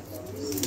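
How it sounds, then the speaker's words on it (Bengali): Pigeons coo nearby with soft, rolling low calls that swell slightly louder toward the end, with no talking. "আজকে অল্প কিছু কবুতর দেখাবো।"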